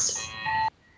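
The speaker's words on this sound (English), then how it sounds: "A phone call." A phone rings with a short, bright electronic chime that lasts under a second and then stops sharply.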